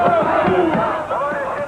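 A large crowd of anti-Yeltsin demonstrators marching toward the Kremlin in Moscow, voices raised in loud chanting and shouting, close and unbroken.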